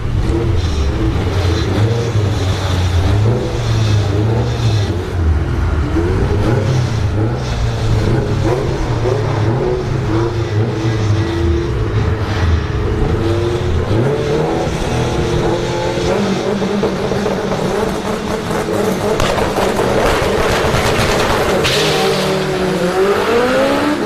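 Drag racing cars launch down the strip at Orlando Speed World, their engines roaring loud and close as they rev and accelerate, with the right-lane car bogging. The sustained din lasts the whole stretch with no talk over it.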